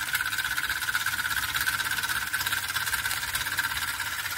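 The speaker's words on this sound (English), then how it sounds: "So that's virtually a free steam engine, isn't it?" A small homemade rat steam engine runs steadily, giving a continuous fast chuffing and mechanical whir with a constant high whine, close and even throughout with no talk.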